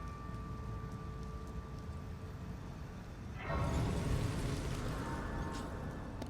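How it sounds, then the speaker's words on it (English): Rain falls in a video game, a soft, steady hiss that suddenly swells louder and brighter partway through, as if stepping out from shelter into the downpour. "Okay, it's still raining. It's still raining."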